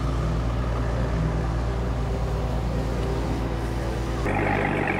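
Dodge Hellcat with a freshly installed exhaust system idling nearby, a steady deep rumble holding level, with a brief shift in tone near the end.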